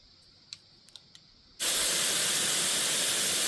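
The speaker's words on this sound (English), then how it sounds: "air is blowing in all around the outside rim and all around the valve stem, but nothing's going in the tire." Air from a newly charged compressor hisses loudly out around the rim and valve stem of an empty, loose-valved rear tire, a steady broad blast starting abruptly after a few faint clicks.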